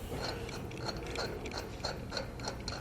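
A ratchet clicks rapidly and evenly while threading lug nuts onto a trailer wheel, a close, continuous mechanical rattle with no talking.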